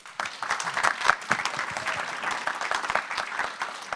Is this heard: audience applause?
yes